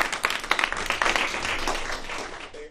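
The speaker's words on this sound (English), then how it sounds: "Can we give them a round of applause?" Scattered audience clapping at a student leadership program event, fairly soft and uneven, with individual claps standing out and fading toward the end.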